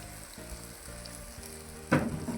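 Chicken pieces frying in ghee give off a steady, moderate sizzle that swells into a louder crackling burst near the end, with no voices.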